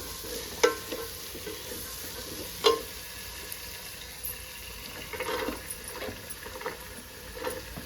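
Vegetables go into hot oil for a green vegetable pulao and are stirred. A soft, steady fry sits under intermittent scraping clatters of the spoon, with a few sharper knocks against the pan.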